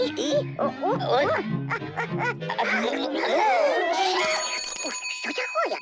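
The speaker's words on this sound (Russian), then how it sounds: "А потом я позвонила очень громко." A bell rings loudly with bright, sustained tones that come in near the end, after lively, expressive voices talking back and forth.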